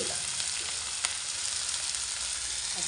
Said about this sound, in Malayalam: നമുക്കതിനകത്ത് കടുക് പൊട്ടട്ട്